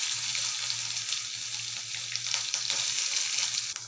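Green chillies and onion fry in a pan for vegetable saagu, a steady close sizzle with a faint stirring scrape now and then and no voices.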